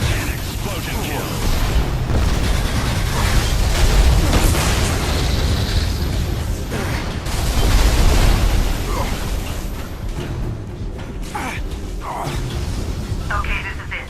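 Explosions and gunfire rumble through an Alien Rage firefight, with low booms and bursts layered over a steady roar of action noise and game voices for the whole stretch.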